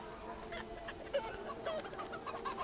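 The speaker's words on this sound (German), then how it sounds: "Da sind die Hühner." Chickens cluck in Sniper Ghost Warrior 3, several short clucks scattered over a steady game ambience, moderately close but not loud.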